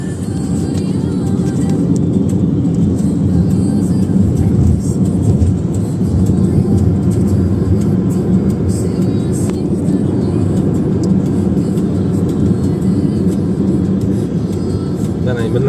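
A first-generation Daewoo Nexia on the move gives a steady, loud low engine and road rumble that fills the whole stretch without a break.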